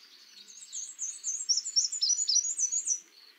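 Black-and-white warbler song: a soft, thin run of high squeaky notes repeated in a steady rhythm, like a squeaky wheel, rising in strength mid-phrase and heard alone outdoors.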